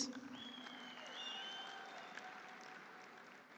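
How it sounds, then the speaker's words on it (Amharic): A small awards-ceremony audience applauds, a soft, fairly distant wash of clapping that holds steady for a few seconds at low volume with a faint tone running under it. "እስቲ አንድ ጊዜ አጨብጭቡ ፕሊዝ"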